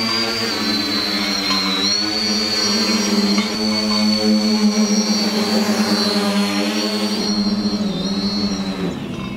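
A cooler drone flies nearby, its rotors producing a loud, steady, whining buzz with a strong tonal hum that shifts slightly in pitch over nearly ten seconds, with no talking.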